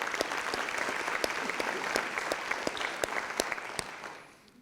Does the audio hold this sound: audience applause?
yes